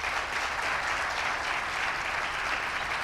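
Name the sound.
audience applause for panelists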